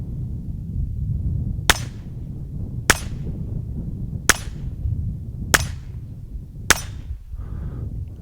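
Taurus TX22 pistol firing subsonic .22 ammunition outdoors: five sharp, fairly quiet cracks spaced about a second apart over a steady background hiss, no talking.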